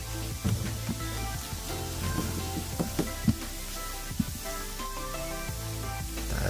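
A liquid organic fertilizer mixture is stirred after hydrogen peroxide is added, producing a steady fizzing hiss broken by irregular sloshing and knocking from the stirring, with no talk.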